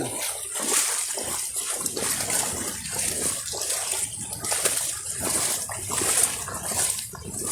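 Floodwater on a flooded village road in Bangladesh splashes and gushes continuously at close range, a steady wet churning with no clear talk.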